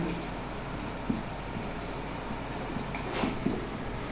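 Pen or marker writing the bisulfide formula in a chemistry lesson gives faint, steady scratchy strokes with a few light taps. It is quiet and close.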